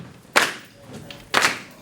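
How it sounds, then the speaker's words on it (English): Two slow, loud claps about a second apart ring out from an audience keeping a beat for a song at a historic presentation, with quiet room sound between them. "if y'all can just clap so I can have a beat"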